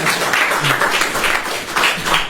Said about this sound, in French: Je vous dis aussi d'applaudir pour ça.